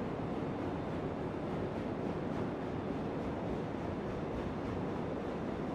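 Passenger train running in the game Railroads Online, a steady broadband rumble and rush held at an even level throughout, with no talk over it.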